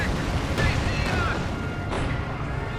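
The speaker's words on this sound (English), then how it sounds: "So I toss artillery on these and drive through the artillery." Artillery fire in the real-time strategy game Company of Heroes 2 makes a loud, dense rumble of booms and blasts, with a couple of sharper impacts standing out from the continuous roar.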